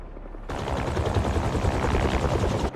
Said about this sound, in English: Something like...